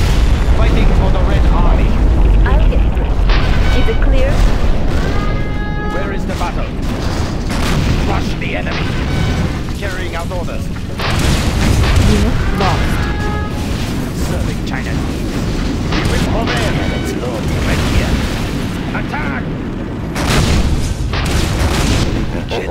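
A nuclear missile strike in the game Command & Conquer Generals ShockWave sets off loud, sustained booming and rumbling that fills the whole stretch, with voice lines heard over it.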